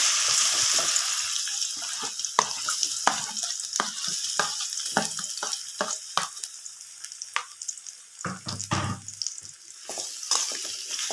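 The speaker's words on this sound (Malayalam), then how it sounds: "ഏത്തപ്പഴം നല്ലതുപോലെ ഈ നെയ്യിലിട്ട് ഒന്ന് വരട്ടിയെടുക്കണം" Plantain pieces frying and being stirred in hot ghee, a steady broadband sizzle with repeated scraping stir strokes throughout, close and fairly loud, no voices.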